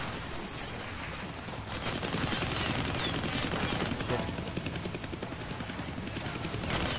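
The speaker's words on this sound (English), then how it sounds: "you can't hijack a chopper while it's flying around trying to turn you into shredded cheese" A helicopter in the Deadpool video game whirs with rapid, pulsing rotor chop, fairly faint and growing slightly louder midway, with no one talking.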